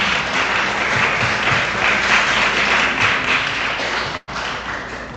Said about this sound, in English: Round of applause. Welcome her.